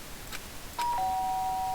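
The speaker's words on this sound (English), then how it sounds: "did you hear the doorbell?" Two-tone electronic doorbell chime in a murder-mystery video game, a soft ding followed by a longer sustained dong, clear and alone against quiet background ambience.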